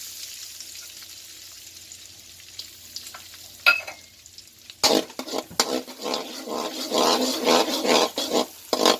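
Garlic hits hot oil in a pan for a mixed seafood dish, a quiet start breaking into loud, crackling sizzle with stirring that carries on steadily to the end.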